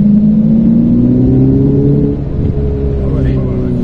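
A Ferrari F8 Tributo accelerates at full throttle on the Pont-l'Évêque circuit, its loud engine note climbing steadily in pitch, with a voice talking over it.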